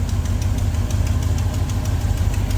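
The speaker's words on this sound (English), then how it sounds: "It even sounds better. This engine's running better." A 1986 Chevy C-10 engine idles steadily and loudly up close, just after a water pump install, with an even, rhythmic rumble and light knocking pulses throughout and no talking.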